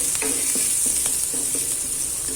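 Garlic and onion fry together in a pan for a Bicol express with liver and gizzards, giving a steady bright sizzle with light rhythmic stirring taps, close and continuous, no talking.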